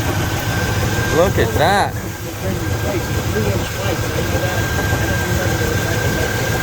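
1965 Oldsmobile 442 Tri-Power V8 with headers, idling in a low, lumpy, steady burble close by, with people talking over it.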